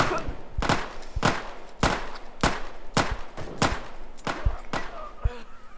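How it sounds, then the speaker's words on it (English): Gunfire from a bot in a survival video game: a series of about nine sharp, loud shots spaced roughly half a second apart, fairly close and rhythmic. "Why are they shooting at me?"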